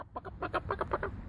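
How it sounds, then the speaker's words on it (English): Backyard chickens near a hay bale and their little coop door cluck in a quick run of about eight short, close, rhythmic calls at moderate volume, with no voices. "The chickens are having some fun."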